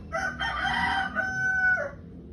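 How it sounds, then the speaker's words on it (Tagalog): A rooster crows loudly and nearby: one full cock-a-doodle-doo lasting about two seconds, rising and holding before dropping off, with no talk over it. "Ingay talaga ng manok, wisit."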